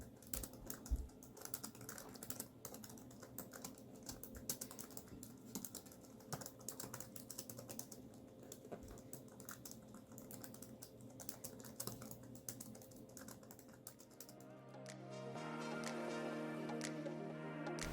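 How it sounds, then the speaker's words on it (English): Rapid clicking of keys on a 2006 Medion MD97500 laptop with a slightly mushy keyboard, a steady patter of soft taps close by, ending in a brief hum of background noise. "This is how the keyboard sounds."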